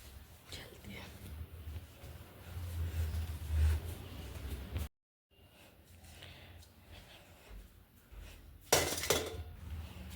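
Freshly washed kitchen utensils clink and clatter as they are set into a dish stand at home. The scattered metallic knocks come at moderate loudness, with one sharper burst near the end, under someone talking.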